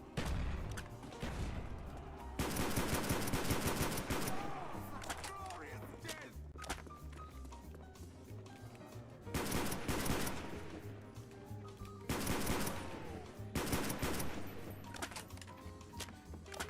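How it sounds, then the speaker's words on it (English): Ray gun fire from Call of Duty zombies on the Verruckt map comes in loud, crackling bursts that repeat every few seconds, with louder and quieter stretches between them, while people talk over the game. "He's actually using the ray gun right now."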